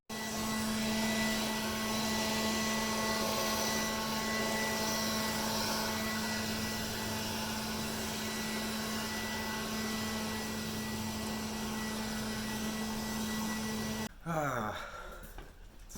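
A Ryobi 18V One+ cordless battery leaf blower runs continuously with a steady high whine and strong tonal hum, then cuts off near the end, leaving a brief rustle and handling noise.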